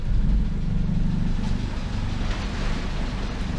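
A freezing cold engine in a 300HP Ford Transit idles steadily around 900 RPM, a low, continuous rumble heard alone at moderate volume with a faint hiss above it.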